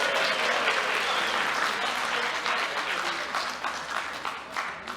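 A group bursts into steady applause, a dense patter of many hands that holds firm before thinning slightly near the end.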